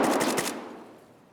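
Rapid game gunfire crackles in a quick burst of close shots during the first half second, then trails off into a fading echo with no talking.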